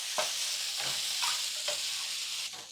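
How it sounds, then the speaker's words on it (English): Tofu cubes frying in a pan with browned onion make a loud, continuous hissing sizzle, broken by a few scraping stirs of a utensil, with no one talking. "So I'm going to go ahead and put the tofu in."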